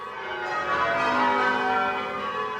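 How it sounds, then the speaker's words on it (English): Church bells ring in a sustained, overlapping peal during change ringing in Derbyshire, tones layering steadily at a moderate distance with no voices over them. "the change ringing, when the bells are rung in a series of mathematical patterns called changes"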